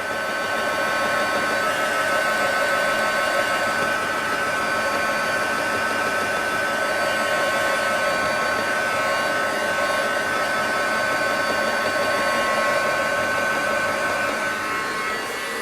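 Hair dryer blowing steadily on a painted bauble being given a marble effect, a loud continuous whooshing roar that holds an even level throughout with no talking.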